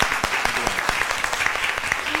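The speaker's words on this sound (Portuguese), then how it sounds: "Uma salva de palmas." Audience applause at an art information seminar, with fairly sparse, distinct claps in an uneven rhythm from a modest crowd, close and clear, running briefly without talk.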